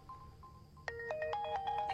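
Mobile phone ringtone of an incoming call, a melodic electronic tune of bright repeating tones that starts suddenly after a quieter tonal lead-in and plays on steadily at moderate volume with no talking.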